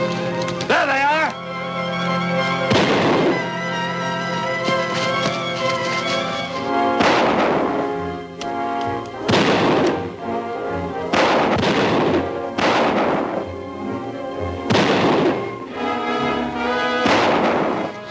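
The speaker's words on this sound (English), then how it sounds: "We heard gunfire." Repeated heavy gunshots from pirates boom in irregular bursts over continuous loud background music and noise, with voices mixed in throughout, from a 1950 film serial.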